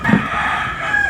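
Backyard chickens sound off with a rooster crowing and hens clucking, close by and steady, filling the short moment with dense poultry calls.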